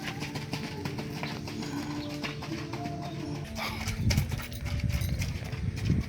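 Two racehorses gallop around a training track at the Sumedang horse-racing ground, hooves thudding in an uneven clip-clop that grows stronger toward the end, with birds and outdoor ambience around it.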